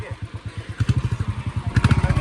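A motorcycle engine runs close by with a fast, even pulsing beat that grows slightly louder partway through, and voices are heard over it.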